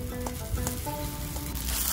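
A Korean pancake (jeon) seasoned with ramen soup powder fries outdoors, sizzling steadily and growing into a brighter, louder crackle toward the end.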